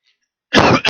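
A single harsh cough or throat-clear from a person getting over a cold bursts out loud and close after a moment of silence, followed by a short second burst.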